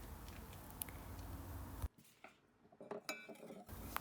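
A spoon clinks and scrapes in a bowl while dry ingredients such as Turkish coffee, vanilla and baking powder are stirred for coffee cookie dough, quiet irregular taps and soft scraping up close.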